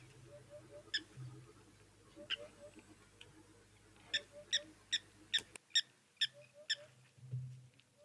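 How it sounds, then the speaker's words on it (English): A blacksmith lapwing calls from a distance at an African waterhole, sharp metallic ticks spaced out at first and then coming in a quicker run of about eight, faint over a low background hum. "That bird making a noise in the distance, a tick tick tick"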